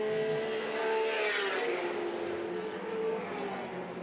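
Touring race cars of the 1984 Australian Touring Car Championship roar along the main straight at Lakeside circuit in the rain, a faint, distant, steady blend of engine drone and spray.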